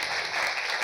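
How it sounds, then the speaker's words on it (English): Audience applause at a leadership event on the global goals, a dense, steady wash of many hands clapping that fills the whole moment at even loudness. "this round of applause is for you for the hard work on this publication"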